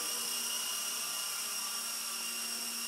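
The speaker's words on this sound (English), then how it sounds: "Now let's show the lift on this heli." A Solo Pro 328 RC helicopter's rotor at full throttle indoors gives a steady, even high-pitched whine with a constant buzzing tone, unbroken and fairly quiet throughout.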